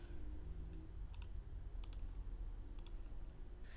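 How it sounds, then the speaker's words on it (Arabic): Computer mouse and keyboard clicks in a quiet room, a few crisp paired clicks spaced over several seconds above a soft background hum. "حددها دبل كليك واضغط على كنترول في اي لصق"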